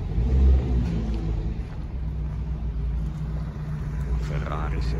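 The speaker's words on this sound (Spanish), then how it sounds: "Lancia Augusta." A 1933 Lancia Augusta classic car idles and revs at a vintage car gathering in Cremona, Italy, with a low rumbling engine and a louder surge early on, while people talk nearby.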